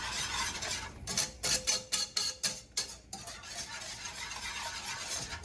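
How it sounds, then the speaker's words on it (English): A whisk beats eggs in a hot pan for Filipino fried rice, making a burst of quick, close scraping taps against the metal over a soft background sizzle. "speed it up with my whisk like that. And you see what's happening in that pan"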